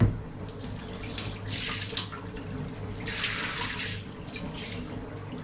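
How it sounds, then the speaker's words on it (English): Cooking water from boiled bamboo shoots gushes steadily into a sink, splashing and running continuously with a few surges in strength, close by. "And we are going to get rid of that water."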